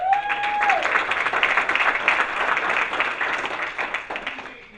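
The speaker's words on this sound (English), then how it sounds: "Let's give all of our guests a round of applause." A roomful of attendees at a regional business meeting gives a warm round of applause for first-time guests, dense even clapping that holds for several seconds before tapering off.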